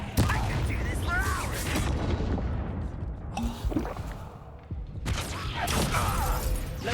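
Confringo blasting spell cast repeatedly in Hogwarts Legacy, heard as sharp explosive bursts and booming impacts amid game effects, with a voice speaking between the blasts.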